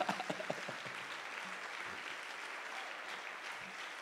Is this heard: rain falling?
no